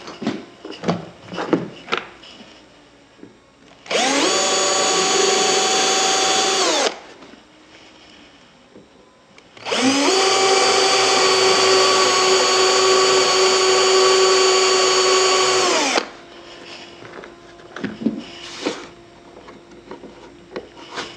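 A power drill bores 4.8–4.9 mm shelf pin holes into a wooden cabinet, whining steadily in two sustained runs separated by quiet handling clatter.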